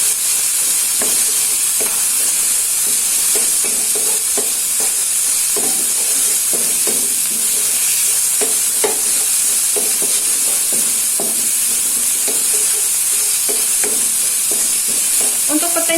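Bay leaves and chilies sauté in hot oil in a pan, giving a constant loud sizzle with repeated scraping stir strokes of a utensil throughout.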